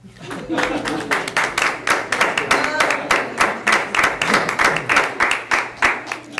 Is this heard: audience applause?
yes